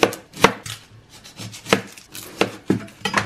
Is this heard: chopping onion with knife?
yes